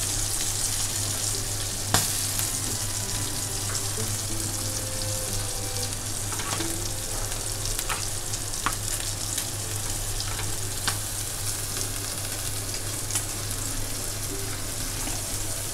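Stuffed green chillies roast in a pan under a steady, dense sizzle with a low hum beneath and a few sharp pops and clicks scattered throughout, continuous and close without any talking.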